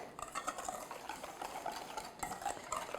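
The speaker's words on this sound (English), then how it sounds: "I'm just going to whisk that in" An egg yolk whisked into a vanilla pudding mixture in a bowl, giving a quick, steady run of light scraping and clinking strokes, close but quiet.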